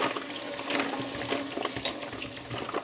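Tap water runs steadily over a cauliflower being rinsed in a kitchen sink, a close, continuous splashing hiss with uneven spatter as the head is turned under the stream.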